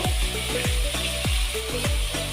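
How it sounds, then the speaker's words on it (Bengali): Spice paste with ginger-garlic water fries in oil for chicken gravy, giving a loud constant sizzle close by, with a regular run of swooping bubbling pops about every half second and no speech. "মশলাটা ভালো করে কষে নেব"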